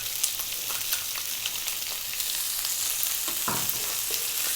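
Onion sizzles and fries loudly in a hot pan for moong dal, a constant crackling hiss with occasional stirring scrapes.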